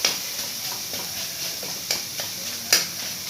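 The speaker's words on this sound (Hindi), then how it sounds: "सारा पनीर को भून लूँगी।" Paneer stir-fries in a pan with a soft steady sizzle, and a spatula scrapes and taps the pan at a few scattered moments, with no voices.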